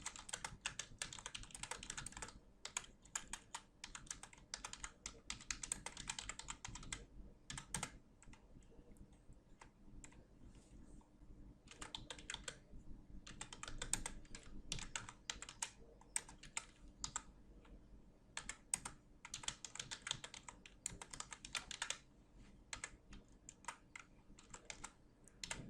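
Typing text on a computer keyboard for long stretches, a quiet, rapid patter of key clicks in bursts with short pauses between, close up and with no talking.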